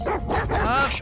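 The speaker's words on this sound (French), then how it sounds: "il y a des chiens aussi" Dogs bark and yip in The Last of Us Part II, a short burst of close barking and whimpering over someone speaking.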